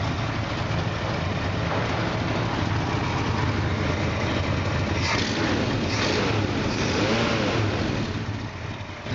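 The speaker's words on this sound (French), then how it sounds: "Et voilà, un moteur qui tourne doucement." A 1966 Ford Mustang engine idles smoothly up close, a loud, steady, even rumble that continues without a break and with no voices over it.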